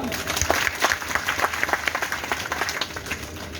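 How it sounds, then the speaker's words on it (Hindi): An audience at a Shrimad Bhagwat Katha religious discourse claps in a loose, uneven burst, with a voice or crowd murmur mixed in beneath the fairly close clapping. "थोड़ी ताली तो बजा दो।"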